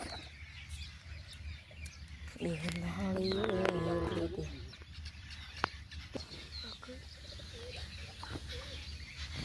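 A pet pigeon gives a short, close cooing call lasting about two seconds, with a faint wing flutter, against a quiet room background.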